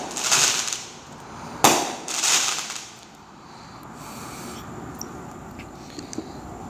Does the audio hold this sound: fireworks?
yes